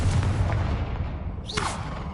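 A Confringo blasting spell detonating in Hogwarts Legacy gives a loud booming burst over a rumbling game backdrop, followed by a sharp whooshing sweep as the blast trails off.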